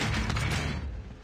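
A weapon reload in Call of Duty Mobile on the Alcatraz map gives a brief mechanical clatter and creak of metal parts, loud at first and then fading over about a second.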